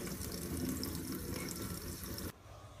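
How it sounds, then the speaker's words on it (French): Cold water runs steadily from a kitchen tap to rinse green tea, a close, bright splashing stream that cuts off abruptly near the end, leaving quiet room tone. "il faut mieux ouvrir le robinet à froid et vider ce qu'on a mis, la quantité d'eau"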